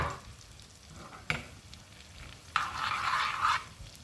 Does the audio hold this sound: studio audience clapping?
no